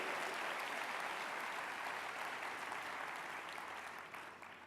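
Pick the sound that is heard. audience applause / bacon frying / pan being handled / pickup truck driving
audience applause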